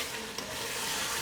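Spinach is stirred into chicken curry in a hot pan, a soft, steady sizzle with faint scraping of the spoon, quiet and brief.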